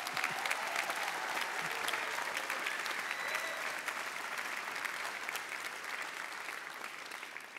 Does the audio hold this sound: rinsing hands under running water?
no